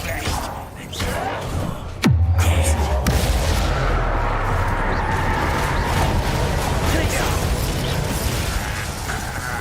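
A Confringo fire spell blast in Hogwarts Legacy, a sudden sharp boom followed by a sustained low rumbling roar and crackle that carries on for several seconds amid dense game noise.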